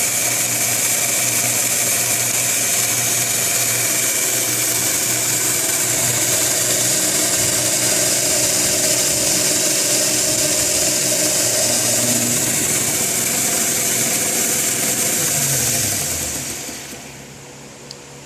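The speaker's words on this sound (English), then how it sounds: "showing you how I made a belt sander" A homemade DIY belt sander built from shop scraps runs steadily with a loud, even whirring motor and belt hiss, then winds down and fades out near the end.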